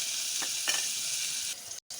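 Chopped onion and tomato sizzle in a pan as they are stirred for tomato masala curry, a steady close frying hiss with a couple of soft scrapes before a brief cut to silence.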